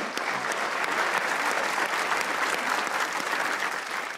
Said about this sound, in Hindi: पहले तालियां